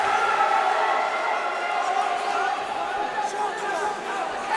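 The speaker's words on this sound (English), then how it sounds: "you can hear the crowd response to Tyree here" Crowd reacting at a live fight event as one fighter scrambles on the mat; steady, moderately loud murmur and cheering, with a commentator talking over it.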